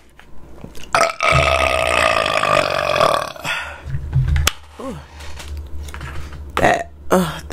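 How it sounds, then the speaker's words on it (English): A man lets out several loud, long burps after eating African food (goat, fufu, egusi soup and jollof rice), the first a drawn-out belch followed by shorter ones, with scattered clicks and small noises between them. "I'm going to let some burps off"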